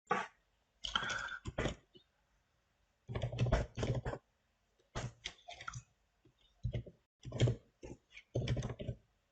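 C programming code typed on a computer keyboard, quick bursts of close key clicks separated by short silences, no talking.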